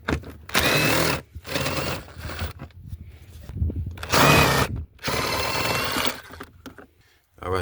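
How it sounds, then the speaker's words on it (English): Power tool spinning out 8mm bolts from the air filter cover of a 2005 Honda Accord 3.0L; several loud whirring bursts of about a second each, separated by pauses, with quieter handling noises between them. "I'm gonna have to remove the 4 screws or bolts that holds this air filter cover on"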